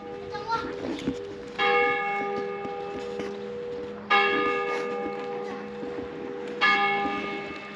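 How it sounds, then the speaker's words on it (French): Church bells ring out in a village in the evening, three loud sustained strikes spaced a few seconds apart, each ringing on and overlapping, with children's voices faintly in the background. "C'est ce moment où les cloches sonnent et on adore ça."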